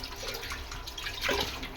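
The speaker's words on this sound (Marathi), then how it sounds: "ही स्वच्छ एक एक पान असं नळाखाली स्वच्छ धुवायचं आहे" Taro leaves are rinsed one at a time under a running kitchen tap, giving a steady, close splashing rush of water with irregular spatters. No talking.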